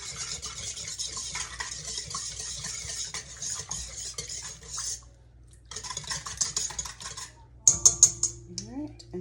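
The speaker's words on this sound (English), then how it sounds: "Give that another whisk." An egg, including a double yolk, is whisked in a bowl for savory yeast bubble rolls, with rapid rhythmic clinking strokes, brief pauses and some light kitchen clatter near the end.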